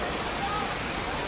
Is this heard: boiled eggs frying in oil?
no